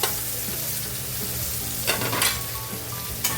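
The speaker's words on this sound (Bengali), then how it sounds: "এখন কুচনো টমেটোটা অ্যাড করে দিলাম" Chopped tomato frying and being stirred with fried onions in a pan for green peas pulao, a steady loud sizzle with spatula scrapes and a few sharper crackling bursts, no talking.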